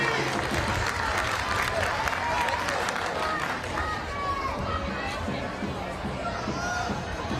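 Perth Glory's home crowd keeps up a constant roar at an A-League football match against Melbourne City, broad and distant-sounding, with a voice talking over the crowd noise.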